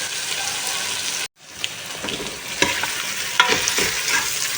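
Beef and arvi (taro root) fry in a pan over lowered heat with a dense, steady sizzle that cuts out briefly, then returns with scattered pops and light stirring clicks.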